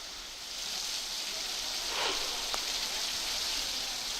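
Heavy monsoon rain falls in Maharashtra as a steady broadband hiss that swells slightly midway, continuous and even, with no voices.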